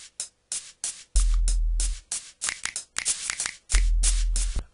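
Drum parts from a music track played without the added sample, with crisp snare and hi-hat hits in a busy rhythm and two deep sustained bass booms rolling underneath, heard up close.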